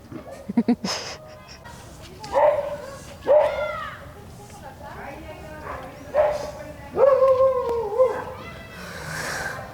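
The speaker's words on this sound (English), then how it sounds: "Dog." A dog barks several times at a construction site in Mexico, with sharp yips and whimpering barks spaced irregularly over several seconds, fairly close and loud.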